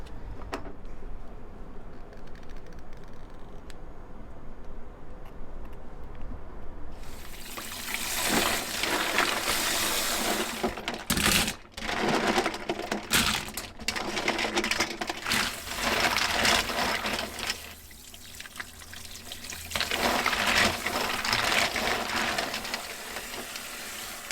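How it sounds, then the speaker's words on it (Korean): Pre-cleaned mussels, already debearded, are rinsed under a running kitchen tap while making Korean mussel soup; a steady rushing splash of water starts after several quiet seconds and continues loudly with brief dips. "깨끗이 이렇게 물로 헹구시기만 하면 될 것 같아요"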